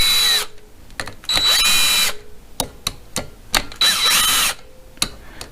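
A power drill tightens clutch cover bolts on a 2008 Yamaha Raptor 250 ATV in several short whirring bursts, separated by brief pauses and sharp clicks, heard close up.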